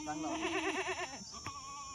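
A Kathiawadi goat at a busy livestock sale lets out a wavering, quavering bleat lasting about a second, fairly close, with crowd chatter around it.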